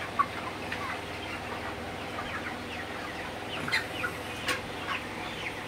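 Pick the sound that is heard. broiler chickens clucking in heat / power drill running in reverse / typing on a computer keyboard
broiler chickens clucking in heat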